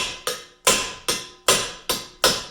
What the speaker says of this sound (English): you can just keep tapping slowly like this